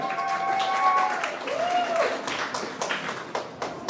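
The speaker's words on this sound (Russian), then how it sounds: "Ваши аплодисменты." Audience applause at a bridal beauty pageant greets a contestant, starting softly under a brief voice and tones, then growing into distinct, sharper claps from a moderately distant crowd.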